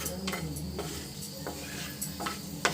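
Cashew nuts roasting in a pan for bread halwa, with a soft steady sizzle and several light scraping stirs of a spoon against the pan, close up and with no talking.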